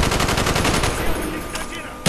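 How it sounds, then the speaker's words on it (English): Rapid bursts of automatic gunfire in a multiplayer shooter video game, loud and repeated in quick succession across the clip, ending with a sharper single shot. "put a few bullets into him"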